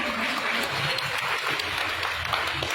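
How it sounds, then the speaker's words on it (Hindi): An audience at a gathering welcoming a municipal commissioner claps steadily, a dense even wash of applause filling the room throughout, with faint murmuring underneath. "बहुत सारी तालियां।"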